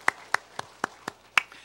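At a Sunday worship service in a Gwangju church, hands clap to welcome two newly registered members: six sharp, distinct claps in a fairly even rhythm, close and clear against a quiet room.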